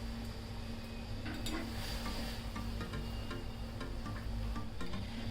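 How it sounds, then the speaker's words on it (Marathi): Tea powder simmers in boiling water in a pan, giving a steady close bubbling fizz with scattered small pops and a faint clink of utensils, and no talking. "ही चहाची पावडर आहे ना 1 मिनिटभर चांगली पाण्यामध्ये ना उकळून घ्यायची आहे आपल्याला व्यवस्थित"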